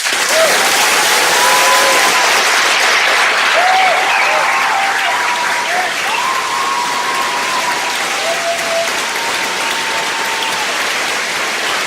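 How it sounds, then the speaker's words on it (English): Sustained audience applause at a 2014 Claremont mayoral debate fills the hall loudly and steadily, with a few brief voices and whoops riding over the clapping. "My class never applauded me like that."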